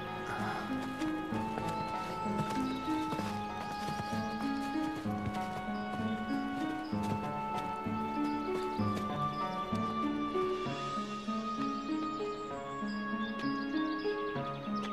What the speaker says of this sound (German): Noch ein Pferd.